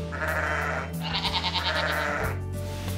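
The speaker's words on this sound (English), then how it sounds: "They're noisy sheep." Sheep on a countryside farm bleat loudly and close by, with several overlapping drawn-out calls running back to back across the whole stretch.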